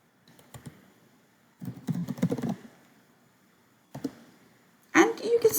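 Bursts of rapid clicking keystrokes in short clusters with quiet gaps between, close up, ending in a louder scrape of noise.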